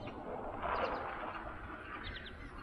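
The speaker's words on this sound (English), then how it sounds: "There's birds chirping." Birds chirping outdoors, a few faint, brief tweets from a distance over a steady low background hum.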